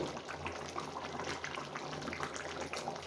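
Fish curry with okra simmering and thickening in a pot, a soft continuous bubbling close by with no talk.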